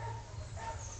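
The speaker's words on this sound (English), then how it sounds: "A dog barking" A dog barks faintly in the distance outdoors, a soft muffled sound mixed with a low background rumble over about one second.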